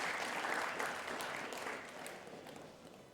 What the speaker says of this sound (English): Fifth form graduating class, give yourself a round of applause.